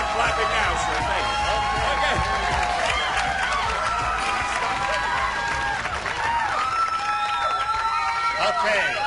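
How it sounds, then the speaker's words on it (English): A game show studio audience claps and cheers loudly and continuously, the crowd noise carrying high whoops and whistles throughout. "Start clapping now"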